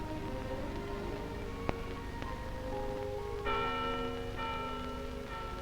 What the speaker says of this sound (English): The bells told a joyous message.